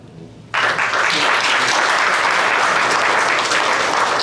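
A live talk-show audience bursts into loud, dense applause for three women, starting abruptly after a brief quiet moment and continuing steadily to the end.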